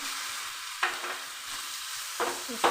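Boiled potato and fried eggplant are stirred in a pan over sizzling oil. A soft continuous fry runs throughout, and a few sharp scrapes and clatters from the spoon land close by, with no talking.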